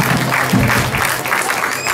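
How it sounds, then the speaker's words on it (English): A church congregation claps together during a dedication service, a dense burst of applause lasting about two seconds, close and fairly loud. "Applause. Give it all around."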